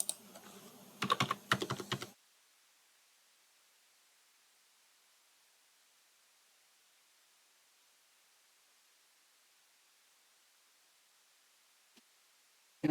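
A short burst of rapid typing on a computer keyboard while an online form is filled in, lasting about two seconds, then near silence with a faint click at the end.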